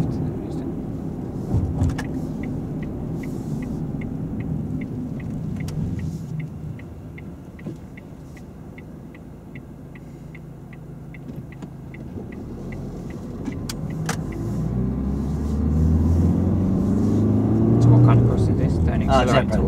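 Car driving along a road and turning left at a signalled pedestrian crossing, a low engine rumble and road noise heard from inside, with a steady ticking indicator, building as it accelerates.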